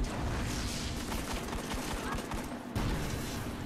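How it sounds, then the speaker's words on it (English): A high-recoil gun in Destiny fires rapidly, giving a dense, loud, continuous barrage of shots with a brief break near the end. "The recoil on this is so high that it just sends the muzzle flying up into the sky."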